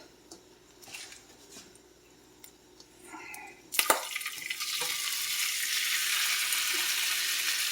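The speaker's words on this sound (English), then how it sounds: "I'm just going to try to get a little sear on these." Meat, a cut of tough beef, searing in a hot pan: a loud steady sizzle bursts in suddenly and holds strong, following some quieter clinking of pans and kitchen handling beforehand.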